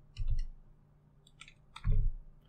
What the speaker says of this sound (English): I just need to click OK on it.